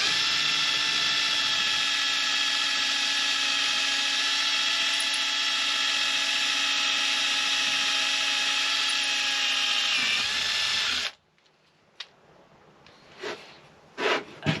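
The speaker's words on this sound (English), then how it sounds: "It's not a very sharp drill bit" A dull drill bit bores a hole in an aluminium mountain bike mudguard part, giving a loud steady whine for about ten seconds that cuts off, followed by a few faint clicks and knocks.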